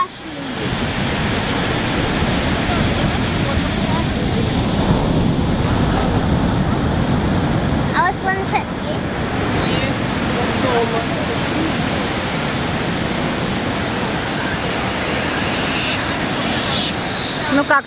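Ocean surf rolls onto a beach at Phuket, Thailand, a steady loud wash of breaking waves mixed with wind roar, continuous throughout with no voices over it.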